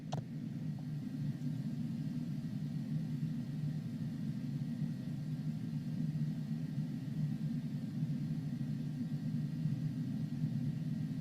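Cockpit system of a Cessna Longitude business jet powering on in a flight simulator, a steady low droning rumble with a constant hum that runs unbroken and fairly loud for the whole stretch, with no voices.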